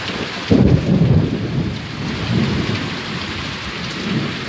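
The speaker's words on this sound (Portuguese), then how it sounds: "o raio que caiu aqui agora, o trovão vai vir com força, viu?" Heavy rain pours steadily on a rural smallholding while a loud, close thunderclap bursts after lightning and rumbles away, with no voices.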